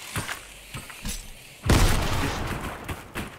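Gunfire in the video game Fortnite: several quick muffled shots followed by a loud booming burst of fire that rumbles on, with players talking over it.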